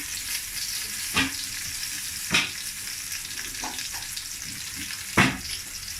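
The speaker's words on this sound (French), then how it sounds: "Et l'ail. Je le fais bien saisi." Garlic searing in a hot pan with oil, a continuous crackling sizzle punctuated by three or four louder scraping stirs of a utensil.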